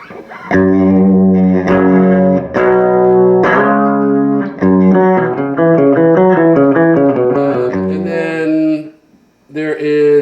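Electric guitar notes and arpeggios through a Crate FXT120 amp's doubler effect, loud and close, ringing out before a brief pause and a final chord.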